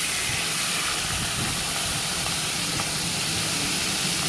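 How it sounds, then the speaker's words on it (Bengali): A loud, continuous hissing sizzle of fish frying in oil, steady throughout with nothing else heard. "তেল দিয়ে মাছের মাথাটা ভেজে নিলাম।"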